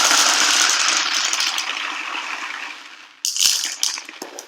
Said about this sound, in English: as I poured them in, you can sort of hear that rain sound already starting